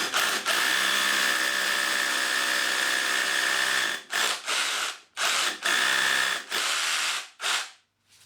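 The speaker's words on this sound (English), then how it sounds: "I'm just going to put the hammer action on" Hammer drill with hammer action on boring into a solid concrete wall, a loud rapid rattling grind held steadily for four seconds, then several shorter bursts separated by quick pauses, close with no speech.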